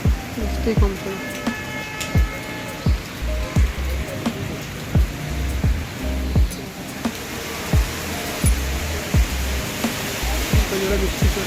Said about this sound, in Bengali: কত জোরে বৃষ্টি হচ্ছে, কত জোরে বৃষ্টি হচ্ছে দেখো বন্ধুরা